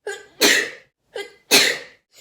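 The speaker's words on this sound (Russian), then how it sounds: "Почихала." A woman sneezes twice in quick succession, close and loud, each sneeze preceded by a short sharp inhale, with a third intake starting at the end.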